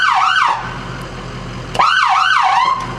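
An emergency vehicle siren switches between a slow rising-and-falling wail and a faster yelp, loud and close, with a brief drop in level before the sweeping tone returns more quickly.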